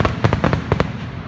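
Fireworks burst outdoors at night in a quick irregular series of sharp cracks and pops, some close together, loud against a steady background rumble with no talk.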